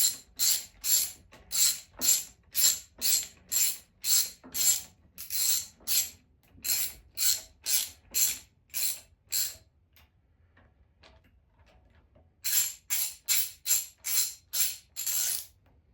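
Ratchet wrench snugging alternator mounting bolts on a Triumph Spitfire, a tractor-type alternator being installed: sharp rhythmic clicking strokes in quick bursts, a pause of silence, then another fast run of clicks, close and fairly loud.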